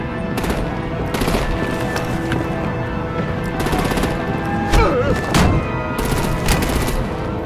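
Rapid bursts of machine-gun fire and heavier artillery-style gunfire from the Batman: The Enemy Within video game, loud and sustained with repeated volleys and a few sharper impacts over a dense battle din.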